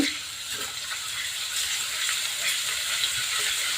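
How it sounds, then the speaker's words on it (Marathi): Spices sizzle steadily in hot oil for a Marathi-style mung vada rassa curry, a continuous broadband hiss and crackle with no speech. "तेलामध्ये पूर्ण आर्क उतरून जातो छान तळून घ्यायचं आहे लालसर रंग येईपर्यंत"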